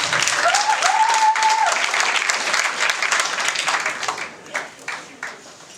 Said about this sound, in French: On va acclamer pour lui.